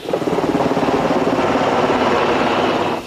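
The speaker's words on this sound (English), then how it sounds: "Helicopters from the Army and police joined the search effort" A helicopter's rotor chops steadily overhead with a dense, continuous engine roar, loud and close throughout.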